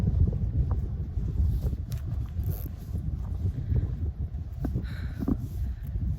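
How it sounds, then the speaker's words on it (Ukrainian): Strong wind buffets the microphone near a castle in Scotland on a January day, a steady loud roar of low rumbling gusts running without pause, with no voices. "Чим ближче я підходжу до замку, тим більше вітер."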